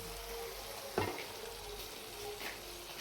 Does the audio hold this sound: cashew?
yes